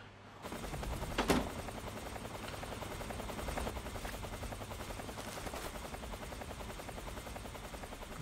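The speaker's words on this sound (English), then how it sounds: "Wait for the sound of the helicopter to leave." Steady thudding rotor chop of a helicopter in the video game Metal Gear Solid 3: Snake Eater, continuous and moderately loud, with a sharp bang near the start.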